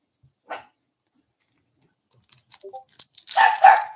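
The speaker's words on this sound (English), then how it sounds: "this is my little puppy in the background" A small puppy barks and yips somewhere in the background, a brief yelp first and then a cluster of sharper barks building toward the end, with no talking over it.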